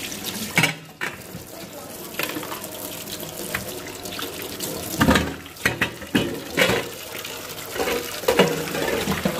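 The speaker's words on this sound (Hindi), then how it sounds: "मैं ये स्टीमर साफ कर लेती हूँ और तो धो के रख देती हूँ" Running tap water splashing in a sink while a steamer pot is washed and rinsed in a home kitchen, with a steady stream and intermittent louder splashes and clanks throughout.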